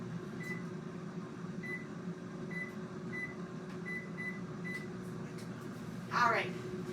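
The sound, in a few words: microwave oven running, cooking macaroni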